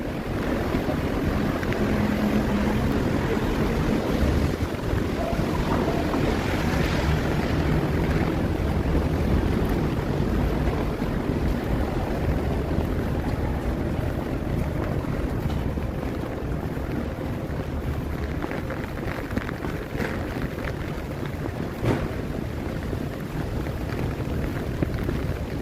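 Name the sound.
strong wind and rain outdoors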